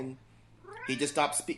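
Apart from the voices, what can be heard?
cat meowing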